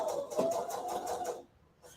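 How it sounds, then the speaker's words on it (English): A sewing machine stitches a stocking seam at a half-inch seam allowance, a close, rapid mechanical whir with rhythmic needle pulses that stops abruptly, followed by a short restart. "Start stitching here. I'm only stitching at a 1/2 inch seam allowance."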